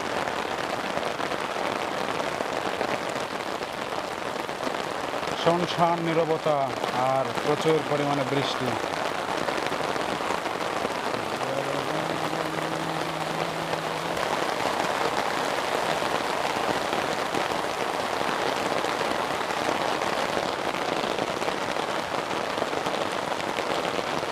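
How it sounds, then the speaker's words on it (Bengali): Heavy rain pours steadily throughout, a dense hiss with a voice speaking briefly through it partway in, heard from under an umbrella. "খুব বেশি বেড়ে গেছে এখন বৃষ্টিটা"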